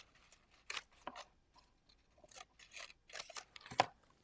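Scissors snip paper strips for a shamrock candy box, a few quiet, close, crisp cuts spaced irregularly over a few seconds against near silence.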